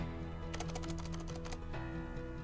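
Quick clicking keystrokes on a computer keyboard, a close burst of roughly a dozen taps in steady rhythm against a faint hum, then a brief pause and a few more light clicks.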